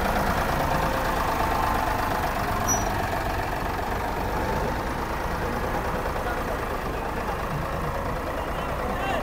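Ford 4610 tractor engine running steadily as it is put in gear, a continuous mid-loud rumble with people talking over it.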